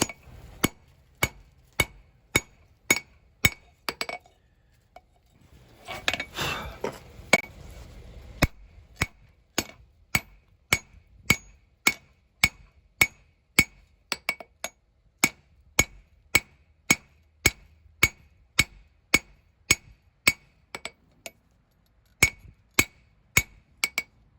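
A steel hammer strikes hot metal at the anvil, drawing out the ball peen of an old ball peen hammer into a tomahawk spike, with sharp ringing blows in a steady rhythm and a brief pause with a rushing forge or grinding noise between.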